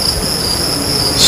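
Crickets chirp steadily through a steamy evening at an outdoor lawn bowls venue during a men's pairs final, a continuous high shrill trill with no voices, swelling slightly louder at the end.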